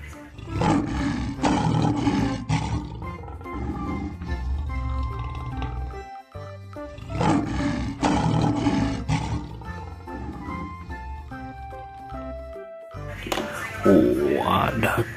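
A tiger in the video game Jurassic World Evolution 2 gives loud, deep, drawn-out roars in separate bursts, mixed with game sounds and heard over a person talking.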